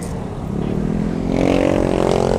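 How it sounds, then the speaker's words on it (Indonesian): A motorcycle's aftermarket racing exhaust fitted with a dB killer silencer revs up close and loud, its throaty drone rising in pitch and volume over a couple of seconds, with road rumble underneath. "Itu knalpot pakai DB killer pak, pakai peredam suara"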